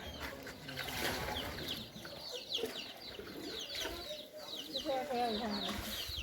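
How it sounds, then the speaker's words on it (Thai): Chickens cluck and squawk in a flood-hit village in Laos, a busy mix of close, repeated clucks and sharper calls, with people talking over them. "ไก่พี่น้อง"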